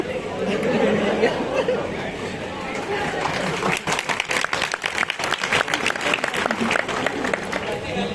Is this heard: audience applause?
yes